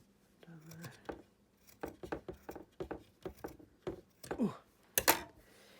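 Scissors snip through macrame cord for a copper and cord macrame stand, a run of sharp close cuts in uneven rhythm, some in quick pairs, with handling rustle between them.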